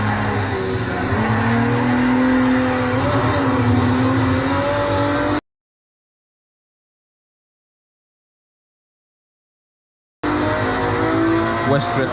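A car drifts on the Nürburgring during a tourist drive, with loud engine noise and rising tire squeal that cuts out midway and then returns. Someone talks over it.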